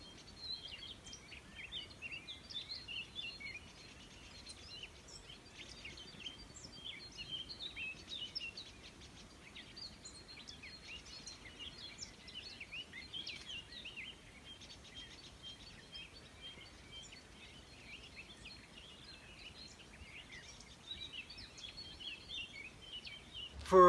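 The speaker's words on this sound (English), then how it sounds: "just to let you hear what our dawn chorus actually sounds like" A spring dawn chorus: many birds chirp and trill together in a busy, layered chorus, mostly moderately distant and soft, continuous throughout with no talking.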